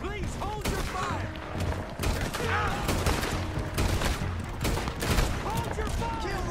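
Steady, dense gunfire rolls through a Red Dead Redemption 2 shootout, overlapping volleys and sharp cracks running continuously under excited voices and shouting.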